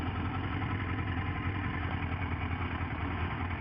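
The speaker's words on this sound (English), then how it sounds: "Somebody else out on the bike." A motorcycle out on the road, heard as a steady, moderate engine drone with an even low hum and no change in pitch, and no voices.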